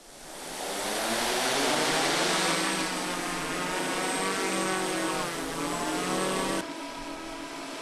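An unmanned drone rises into the air, its rotors churning up a strong wind: a loud, steady broadband roar with a buzzing tone that swells in the first second, holds, then eases slightly near the end.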